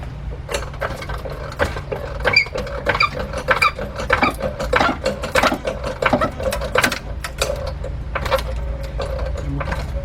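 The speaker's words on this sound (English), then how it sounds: "now I'm gonna start jacking it up" Car jack being pumped up under a 2005 Cadillac CTS 3.6 at the oil pan, with repeated close ratcheting clicks in a steady rhythm over a low background hum.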